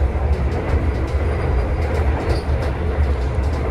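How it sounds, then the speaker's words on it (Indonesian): The new-generation stainless steel Gajayana executive train rolls at speed at night on the Jogja–Solo line. A loud, continuous low rumble fills the clip, with rhythmic rail clatter and faint squeals over it. "tipikal jalur Jogja Solo ini emang terkenal berisik, tapi untuk new generation stainless steel ini masih bisa meredam dengan baik kebisingan dari rel yang gemelodak di sini"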